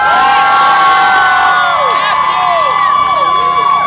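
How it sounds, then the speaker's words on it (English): A crowd at the Bronx Puerto Rican Day parade cheers loudly, with shrill whistles and swooping noisemaker tones over a continuous roar; the noise is close and stays intense for the full four seconds. "Please give them a big, big round of applause."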